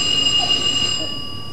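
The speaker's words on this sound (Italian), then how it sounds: "Lui rimane col dito sul campanello finché non gli si apre." A doorbell rings during an Italian stage play. It is a sustained, loud electric tone that holds steady for about a second and then cuts off, with faint room noise underneath.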